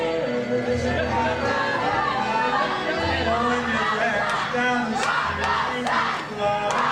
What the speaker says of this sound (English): the crowd's still not behind Rocco there